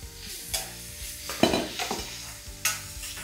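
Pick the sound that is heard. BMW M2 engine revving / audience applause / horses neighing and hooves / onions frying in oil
onions frying in oil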